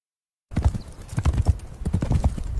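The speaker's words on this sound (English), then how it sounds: "So I had a man racing a horse." Galloping horse hooves from an AI-generated Google Veo race between a man and a horse, a quick run of loud, close clip-clop beats that starts after a half-second of silence and continues steadily, with a faint whinny-like tone mixed in.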